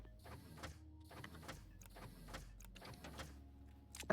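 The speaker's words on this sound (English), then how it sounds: "That's something in the printer." A printer machine in Stationeers runs in repeating mechanical cycles, whirring and clicking bursts about every second at a moderate level, with a sharp clunk at the end.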